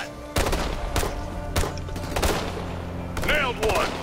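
Bursts of rapid gunfire and loud shots from Ghost Recon Future Soldier, several volleys spaced through the moment with voices talking over the combat.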